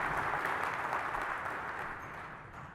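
An audience applauds at a talk on managing emotions under stress, a steady wash of clapping that fades slightly toward the end, with no voices over it.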